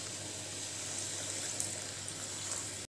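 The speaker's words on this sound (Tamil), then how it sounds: "இப்போ இதுக்கு தேவையான அளவு தண்ணி சேர்த்துடலாம்." Water poured into a pan of spicy tomato garlic gravy on the stove, a steady close pouring hiss lasting nearly three seconds before stopping abruptly.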